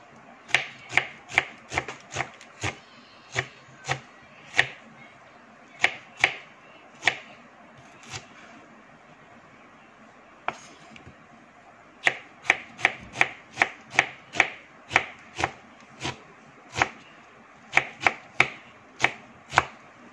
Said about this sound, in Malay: Dan bawang besar ini kita potong halus.